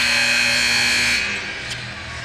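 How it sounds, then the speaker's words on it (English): Basketball game buzzer at a boys' championship, a loud steady electronic tone held for about a second and a half before dropping away, with arena crowd noise underneath. "There's that familiar buzzer."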